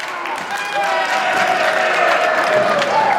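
A fight-event crowd roars and applauds in steady support of the fighter Manik, with a broad wash of cheering that swells slightly partway through, and an announcer speaking over it.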